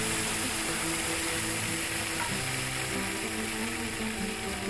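Tomato dropped into hot oil for a vegetarian shola kochu (taro) curry, giving a steady, close hiss of sizzling and frying that runs unbroken throughout with no one talking.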